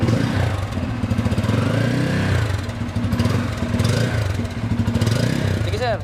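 A 2024 Bajaj Pulsar N250 motorcycle with dual exhaust runs close by, its steady mid-pitched engine throb continuing throughout with slight swells, while people talk over it.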